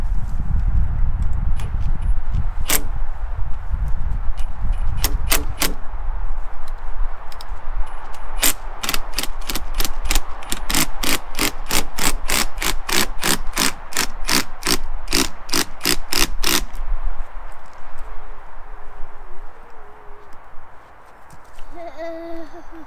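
A tool drives timber lock screws into a shed beam outdoors, giving sharp repeated ratcheting clicks in scattered bursts and then a long rapid run, close by with some ambient noise.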